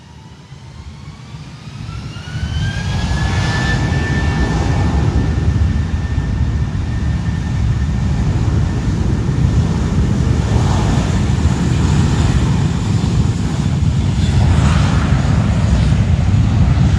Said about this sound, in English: Spirit Airlines Flight 1210 heading to Miami on the A320, now about to roll down from the North Complex at runway 8